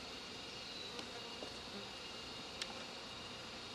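Disturbed honeybees buzz around an open hive in a bee yard, a steady, dense hum that hangs close and constant throughout, with a couple of faint brief ticks.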